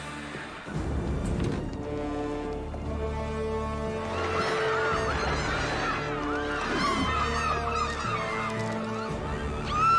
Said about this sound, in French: Je vais m'occuper des mouettes.